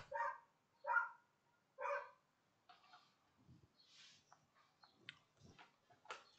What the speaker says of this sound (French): Ah, mon copain le chien.